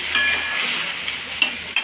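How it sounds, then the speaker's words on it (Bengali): Steady hissing sizzle of potatoes and onions frying in a pan, with a few sharp clinks of a utensil stirring through it. "এই যে আলু পেঁয়াজ ভাজছি"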